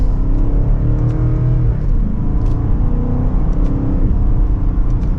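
A 2025 BMW X6 M60i xDrive pulling away in sport mode, second gear: a loud, steady engine rumble and whir from inside the cabin that builds gently, with no talking.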